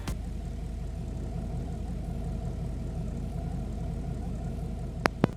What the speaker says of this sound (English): What I like about the Mustang is just its idling sound.